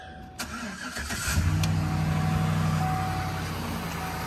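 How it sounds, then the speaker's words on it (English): A Chevrolet truck's Chevy 350 V8 cranks briefly and fires, then settles into a steady, fairly close rumbling idle. "Chevy 350, one of the best engines ever made"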